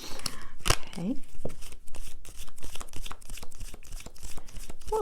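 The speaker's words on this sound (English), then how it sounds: "These heart oracles are always so hard to shuffle." Heart oracle cards being shuffled by hand: a steady run of crisp, papery riffling and slapping close to the microphone, with a few louder snaps and no talking.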